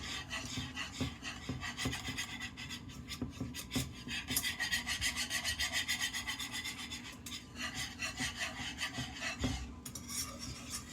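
A spoon scrapes and rubs steadily around a pot of homemade white sauce, milk and flour thickening as it cools, with continuous close rasping strokes and brief knocks against the pot through the whole stretch; no talking.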